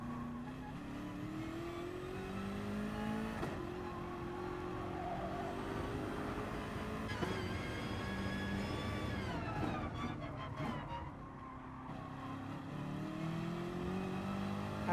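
A race car at Interlagos in a racing video game, its engine revving and climbing through gears with smooth rising pitch sweeps, steady and continuous at moderate level with no talk.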